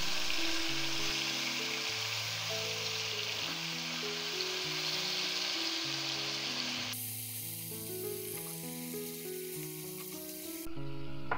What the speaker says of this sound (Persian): بعد بادمجونایی که خرد کردیم میریزیم داخلش.